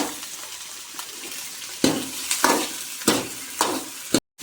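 Onion, ginger and garlic fry in hot oil for a spicy Tamil dried-fish curry. A steady sizzle runs throughout, broken by several sharp scraping stirs of a spoon in the pan, close by and with no speech.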